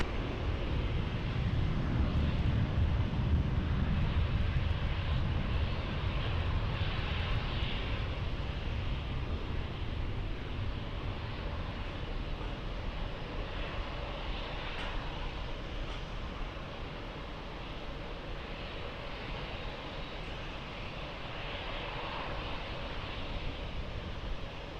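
A plane on approach to runway 20 at Lisbon Airport roars in a steady, broad jet drone that holds for the whole stretch, loud at first and easing slightly later.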